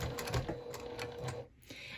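Sewing machine stitching a lanyard keychain, a steady fast mechanical whirring and clatter that runs close up throughout, with a brief pause near the end.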